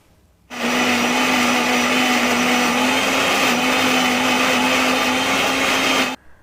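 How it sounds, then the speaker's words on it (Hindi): Mixer grinder jar blending two onions, a loud steady motor whir with a constant hum that starts abruptly, runs for about six seconds, then cuts off. "2 प्याज मैंने जो है ना पीसने के लिए मिक्सर ग्राइंडर जो होता है उसके जार में मैंने रख दिया है।"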